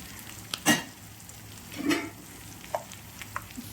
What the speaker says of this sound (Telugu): ఉల్లిపాయ బీట్రూట్ ఒకసారి వేసుకోండి